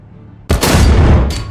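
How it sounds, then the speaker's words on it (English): A tank cannon firing at an enemy tank's fighting compartment in the War Thunder video game: one sudden, very loud, close blast with a brief crack on top, trailing into a heavy rumbling roar. "Now, fire at the fighting compartment on the tank."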